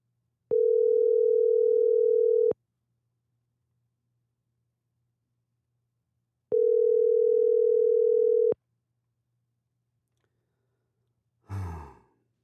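A telephone call rings twice before reaching voicemail: two steady tones of about two seconds each, separated by silence, then a short breathy sigh.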